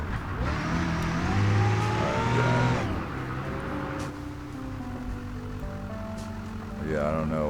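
A Gavril H-series box truck engine in BeamNG drones steadily and rises as it accelerates, loud and continuous throughout, with a voice talking over it.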